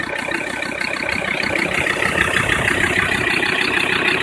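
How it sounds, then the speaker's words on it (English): Ford Ranger PX XLT dual cab 4x4 with a 3.2 litre five-cylinder turbo diesel idles smoothly and evenly, a steady close rumble holding constant throughout with no voices. "as you can hear there, a very smooth running 5-cylinder"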